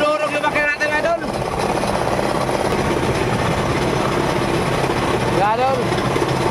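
A squid-fishing boat's engine runs loud and close, a continuous droning rumble with a rattling, hammering texture, while voices call out over it at the start and near the end.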